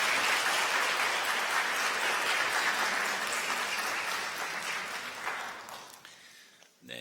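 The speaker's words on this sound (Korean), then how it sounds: "다시 한번 따뜻한 박수 보내시기 바랍니다." A congregation in a church at a Sunday worship service claps warmly, a dense sustained round of applause that carries on for several seconds before tapering away.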